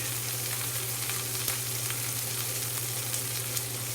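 Potatoes sizzle evenly in a well-seasoned skillet and are nudged gently now and then. The crackling is steady and close, with a low hum underneath and no speech.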